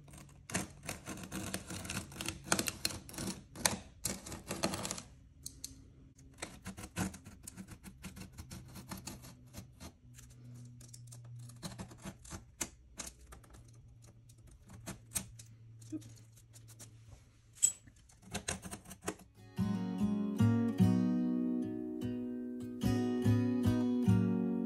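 Mosaic work being cut free from its mesh backing, heard as quiet, close snips and clicks in scattered runs, with a denser clatter near the start and a steady hum joining in toward the end.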